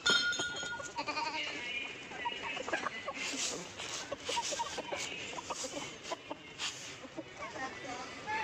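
Goats bleating on a village farm, several calls rising in bursts amid mixed livestock and chicken clucks, close and fairly loud throughout, with people talking in the background.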